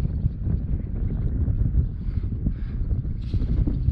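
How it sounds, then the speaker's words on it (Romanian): Wind gusts buffet the microphone outdoors beside a canal while fishing, a low, rumbling, uneven roar that rises and falls in close, blustery pulses with no voices. "A început să bată un pic vântul"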